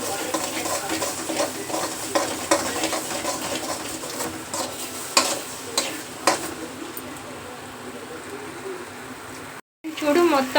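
Eggs fry in a pan with salt and pepper, a continuous bright sizzle with scattered clinks of a spatula stirring against the pan, while someone talks over it and the sound briefly drops out near the end.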